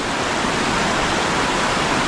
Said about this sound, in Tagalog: mas malakas pa dito yung tubig